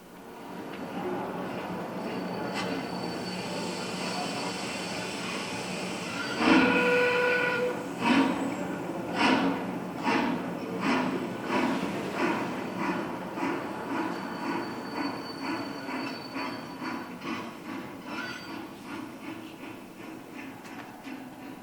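Recorded train sound effect played during a stage performance: a steady rolling rumble, a sharp whistle blast, then rhythmic clacking of wheels that gradually slows and fades, with no talking over it.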